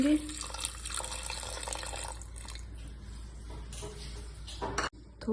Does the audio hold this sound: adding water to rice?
yes